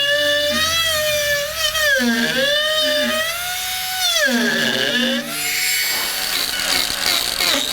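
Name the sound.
rotary carving tool cutting green wood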